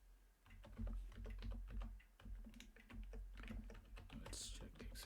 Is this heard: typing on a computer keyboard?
yes